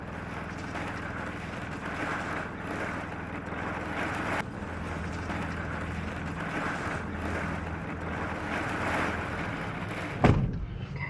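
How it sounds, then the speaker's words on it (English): Strong tropical storm winds gusting at a bluff on Cape Breton, a continuous loud roar buffeting the microphone throughout, with a sharp knock near the end. "Wind gusts as of right now, 49 miles an hour, destructive winds across the entire area"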